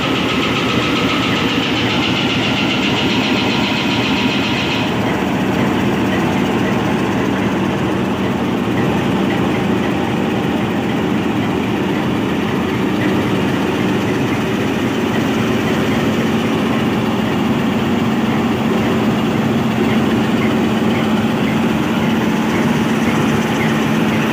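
A Pakistan Railways GMCU diesel locomotive, Kundian-based with a 2400-horsepower engine, idles with a steady, loud, continuous rumble and hum that holds unchanged throughout, with no voices over it.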